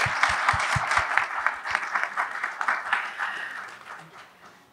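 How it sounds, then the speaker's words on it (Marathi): Audience applause at a live music concert program, a steady wash of many hands clapping that starts with a few sharp near claps and slowly fades toward the end, with no voices over it. "तिला आणि तिच्या वडिलांना दोघांनाही कौतुकाने टाळ्या वाजवा जोरा"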